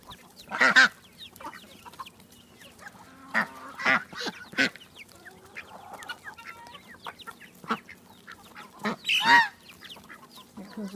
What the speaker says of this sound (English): Here comes a few more chickens that just realized things is going on over here.